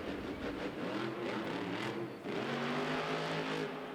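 Whiplash monster truck engine revving inside an indoor arena at a Monster Jam show, a loud sustained roar that dips briefly and then surges again, with no talk.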